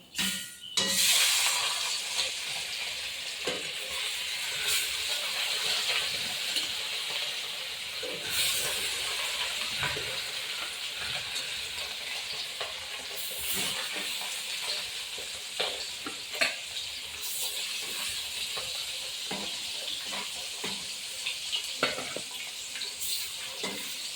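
Pieces of rohu fish frying in hot oil give a steady close sizzle and hiss, with scattered crackles and pops and occasional clinks from the pan throughout.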